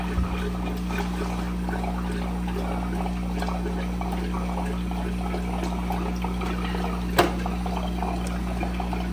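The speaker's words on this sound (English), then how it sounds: "The more I open up the valve, the more water comes out." Water streams from an opened valve into an aquarium breeder box, a steady, faint trickle over a constant low hum of aquarium equipment, with one brief knock near the end.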